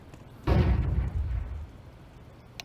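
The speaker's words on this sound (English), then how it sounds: "I throw the flashbang." A flashbang grenade going off in a video game, a single heavy muffled boom that swells and fades over about a second, followed by quiet.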